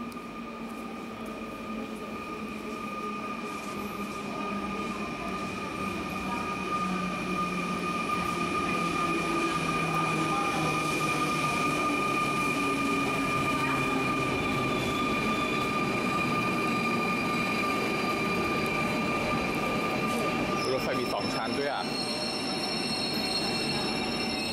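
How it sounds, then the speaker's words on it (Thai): A Paris metro train pulls into the station with a loud, sustained rumble. High steady whines and squealing wheels ring over it, building toward a clatter as it comes to a stop. "รถไฟมาละ"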